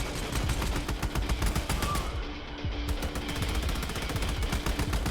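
Continuous rapid gunfire in the video game Resident Evil 5, dense automatic bursts of shots running through the whole stretch, loud and close, with only a brief dip partway.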